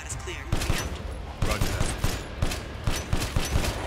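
Rapid bursts of gunfire in the video game Resident Evil Village, several loud close shots in quick irregular succession with someone speaking faintly underneath.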